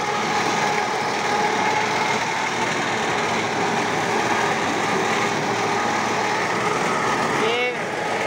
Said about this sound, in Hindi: आज हम आपके लिए लाए हैं मेज harvester as a tractor mount. ये आप देख सकते हैं इसकी कटाई